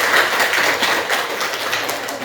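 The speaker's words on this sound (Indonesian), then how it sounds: "Tepuk tangan." A school class clapping hands together on a teacher's cue, a dense, continuous patter of many small claps filling the room, fairly loud and without speech.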